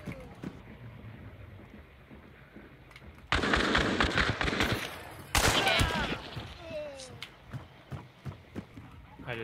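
Gunshots crack in the video game Hunt: Showdown, with two loud bursts of firing and a series of sharper, quieter shots afterward, while players talk over the action.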